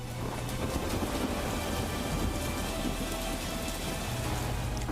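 Heavy, steady monsoon rain pours down in Porbandar, a dense hiss of drops drumming on surfaces with a low rumble underneath, continuous and loud throughout.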